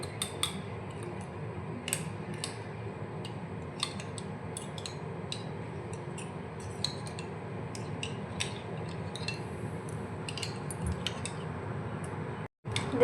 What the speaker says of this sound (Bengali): ভালো করে গুলে নেব।